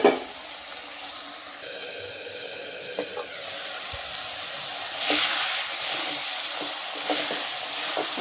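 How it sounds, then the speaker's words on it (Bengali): Tomato chutney cooking in a pan, a loud, steady bubbling sizzle and hiss that swells slightly toward the end, with faint stirring clicks, close by and free of speech. "ভালো করে টমেটোগুলো নেড়ে চেড়ে দিচ্ছি"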